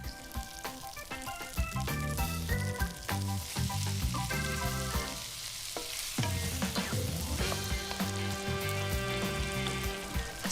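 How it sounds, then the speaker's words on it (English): Shallots and tomatoes fry in a hot pan, with a steady crackling sizzle and sharp spitting pops as the wet tomatoes hit the oil, close up and continuous with no talking. "So the shallots are soft and golden in places. Time for the tomatoes. They spit a bit because of the liquid,"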